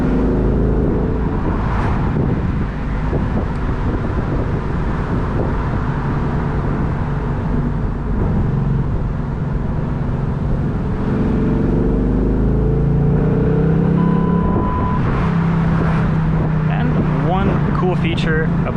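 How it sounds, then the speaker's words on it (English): A 2018 Ford Mustang GT's naturally aspirated V8 drones steadily and close, its exhaust rumbling with rising and falling revs, wind buffeting throughout. "unleashes that nice naturally aspirated V8 exhaust sound"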